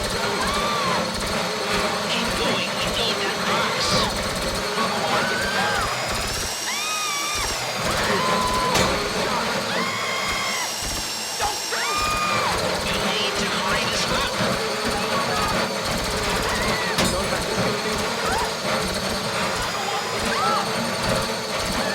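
A drill grinds into a bank deposit box during a heist in GTA 5, a continuous loud mechanical whine with shifting pitch. Voices talk over it throughout.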